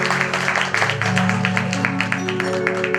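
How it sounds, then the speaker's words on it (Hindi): An audience claps together at a devotional Shyam Baba annual festival in Dombivali, a dense, steady patter of applause under a sustained musical drone, with a voice speaking over it. "एक बार जोरदार ताली बजा करके बाबा को बधाई दीजिए।"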